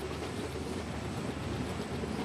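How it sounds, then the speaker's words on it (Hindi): Steady rumbling drone of an ALCO diesel locomotive hauling a passenger express in Trainz Simulator, a continuous dense rolling roar with no breaks or voices. "एकदम भयंकर वाला चगिंग करते हुए आगे की ओर बढ़ रही है अपने एल्को लोकोमोटिव 13162 डाउन को लेकर"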